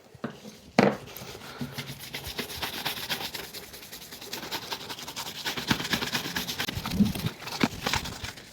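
An applicator brush works ordinary black Kiwi polish into leather shoes, a close, soft, continuous rubbing and bristle scrubbing with a sharper knock near the start.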